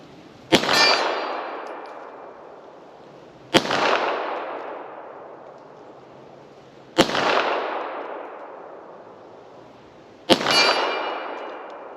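Four single shots from a 1944 Mauser-made Walther P38 9mm pistol, each followed by a bright, sustained metallic ring from a struck steel target that slowly fades, spaced about three seconds apart with quiet between them.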